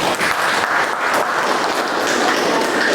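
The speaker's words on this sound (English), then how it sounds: "I would like us to give him a hand clap" An audience claps at the launch event of Busitema University's Cyber School, held with the Mastercard Foundation. The applause is sustained and even, a close, dense wash of many hands lasting throughout.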